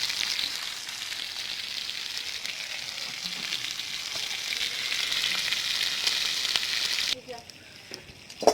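Grouper fish fries in oil on a dosa griddle, giving a steady, close, bright sizzle that runs evenly before cutting off abruptly, leaving faint kitchen clatter.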